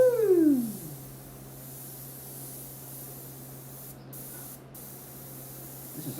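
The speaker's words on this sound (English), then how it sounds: "It's spraying out even though I'm not pulling back on the hammer here, the trigger." An airbrush sprays paint in a steady, soft hiss that carries on evenly for several seconds, with no trigger pulled, after a brief voiced whoop at the start.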